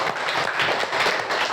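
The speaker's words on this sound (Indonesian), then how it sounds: "Tepuk tangan untuk kita semua." Brief burst of classroom applause as students clap together for one another during a lesson, a dense, steady patter of hands filling the room for a moment.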